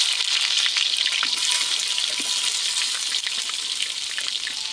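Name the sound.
beef curry onions frying in hot oil with fennel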